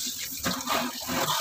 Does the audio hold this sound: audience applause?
no